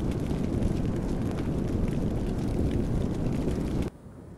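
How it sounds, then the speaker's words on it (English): A burst of fire thrown by an enemy in the video game Pixel Gun 3D roars as a steady, loud, broadband whoosh lasting several seconds, then cuts off abruptly, leaving a quieter hiss. "He just threw some fire."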